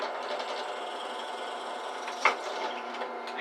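A Mastercraft 10 inch drill press boring a hole, giving a steady whirring motor drone with a faint grinding edge and one brief sharp tick partway through, close and continuous, no speech.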